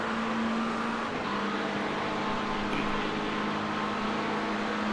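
LMP2 prototype race car engine in a racing video game at Spa, a steady sustained drone at constant pitch with no talk over it.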